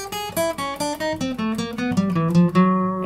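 Descending 4-1-2-3 finger-pattern warm-up on guitar with alternate down-up picking: a quick, even sequence of single plucked notes stepping downward, close-miked and played alone.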